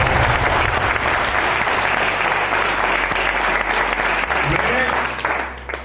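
Sustained applause from a seated audience at a business plan seminar, dense and loud throughout, with a voice speaking underneath before it tapers near the end.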